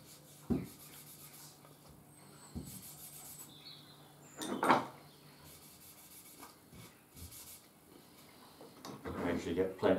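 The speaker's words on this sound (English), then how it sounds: "To wipe over and give it another coat." A cloth wipes a fresh coat of finish over a handcrafted wooden spice rack, producing quiet, intermittent rubbing strokes with a few louder scuffs near the end.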